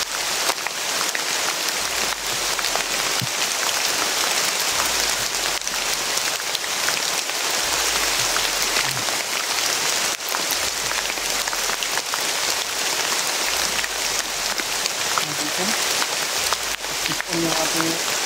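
Heavy rain falls steadily and loudly throughout, a dense unbroken roar of drops on surfaces with occasional faint voices beneath.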